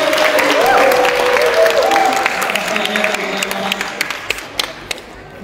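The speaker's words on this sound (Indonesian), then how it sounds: "tepuk tangan sekali" Scattered clapping for a Japanese guest at a school event rises under a voice, then thins to a few separate claps as it fades.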